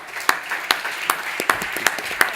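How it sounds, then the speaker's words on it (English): Scattered audience clapping at a beverage competition finals, a handful of distinct claps spaced irregularly over a steady room murmur, moderately close and fairly light rather than a full ovation. "Round of applause for TeaRIOT."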